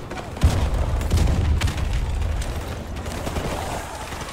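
Grenade explosions in a Call of Duty campaign battle, a heavy low boom near the start followed by rumbling blasts and scattered gunfire that stay loud throughout.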